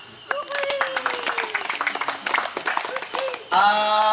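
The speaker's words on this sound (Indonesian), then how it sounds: "Tepuk tangan dong." Participants at a Polygon bike camp clapping, a brisk round of hand claps under a voice, ending as music or a tone cuts in.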